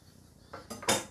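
Japanese nakiri kitchen knives, including Tojiro VG-10, Shirogami Kasumi and AUS-6 Tora blades, clink as they are handled. A few light metallic knocks build to a brighter ringing clatter near the end, close and fairly quiet.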